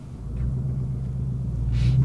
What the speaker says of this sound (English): I'm just gonna release the clutch slowly without applying any gas, and the car will start moving forward